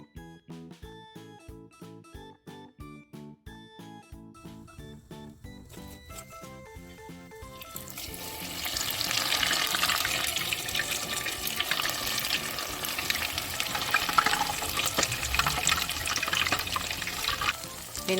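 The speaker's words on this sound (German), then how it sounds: "ihr seht, es blubbert gleich, es sprudelt" Hot frying fat bubbles and sizzles around a test piece in a steady, loud, dense hiss that starts partway through, after a stretch of plucked, tonal music.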